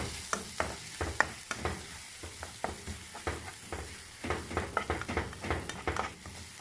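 Thai curry paste for a pork and young tamarind leaf curry fries in a pan, with a continuous sizzle under frequent rhythmic scrapes and knocks of a spatula stirring, close and fairly loud.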